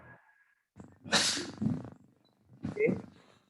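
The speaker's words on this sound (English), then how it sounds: "this one that you are sneezing and coughing" A person with a cold sneezes: a short breathy intake and then two sharp, forceful bursts close to the listener, with breathing in between.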